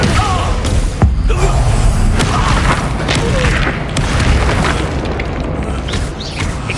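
A Descendo spell strikes in a wizard video game with a heavy booming thud, set in a dense, loud wash of continuous game noise that carries faint voices throughout.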